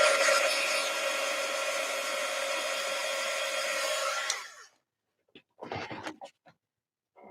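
A hair dryer blows steadily and loudly for about four seconds while drying a piece of artwork, then cuts off, leaving a few short scratching and handling noises.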